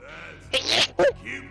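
A single sharp sneeze bursts out close by in the video game Shin Megami Tensei: Devil Summoner: Soul Hackers, followed by a brief second burst of breath, over a quiet background.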